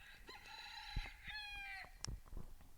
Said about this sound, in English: so if you hear a rooster,